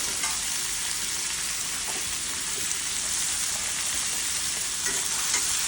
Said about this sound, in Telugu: టొమాటో కూడా మంచిగా వేగిందండి